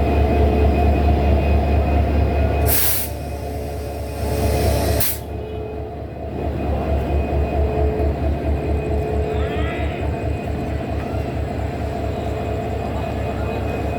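A long train from Chattogram, led by its locomotive, rolls past near an airport station with a loud, steady rumble and rhythmic wheel clatter throughout, broken by two short, sharp bursts early on.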